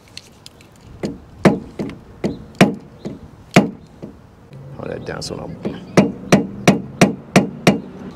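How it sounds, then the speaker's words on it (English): A hole punch is tapped to mark a drill spot on a truck bracket on a 2020 Ford F-250/F-350 Super Duty, giving about fifteen sharp, close metallic knocks in an uneven rhythm, with brief talk partway through. "now you just get your little hole puncher and you're just gonna mark where you're gonna drill."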